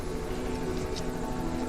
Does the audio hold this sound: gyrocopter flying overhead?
yes